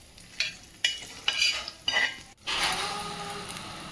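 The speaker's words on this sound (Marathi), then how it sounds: "तव्यावरती आपल्याला एक चम्मच तेल टाकायचं आहे त्यानंतर त्यामध्ये बोंबील टाकून लाल होईपर्यंत फ्राय करून घ्यायचे आहे" Bombil (Bombay duck) fish placed on a tawa with a spoonful of oil: a few short clinks and scrapes of utensils, then a steady close sizzle of frying in oil, with no talking.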